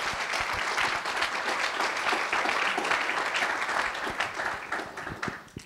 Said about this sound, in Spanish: applause to the Lord